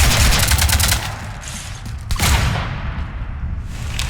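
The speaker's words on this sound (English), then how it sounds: "You want to stop shooting up my ship?" Mass Effect 3 video game gunfire strikes a ship in loud, irregular volleys with clattering impacts and mechanical noise, easing into a rumbling lull before another burst.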